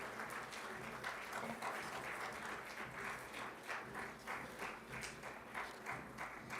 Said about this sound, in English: a round of applause to welcome our guests on this special day